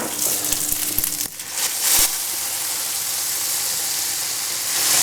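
Homemade tomato sauce and beef mince frying in a hot pan: a loud, steady sizzle runs throughout, with a few soft knocks as the mixture is moved around.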